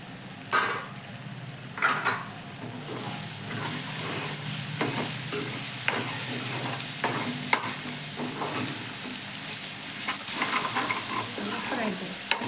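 Egg and paneer frying and being stirred in a pan, giving a steady close sizzle broken by repeated scraping strokes of the spoon, with no voices.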